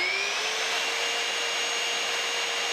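A Triton TA1200BS 76mm belt sander runs steadily upside down at full speed, giving a continuous loud high-pitched whine with a hissy, airy tone and no pauses.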